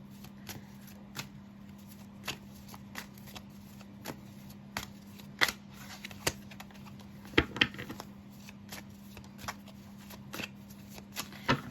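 Tarot deck shuffled close by in a quiet room, a steady series of crisp card flicks and taps roughly once a second over a low constant hum.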